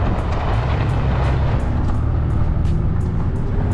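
A truck drives fast down a gravel road, a loud, steady roar of tires and engine filling the cabin, with a continuous rumble and faint periodic ticks throughout.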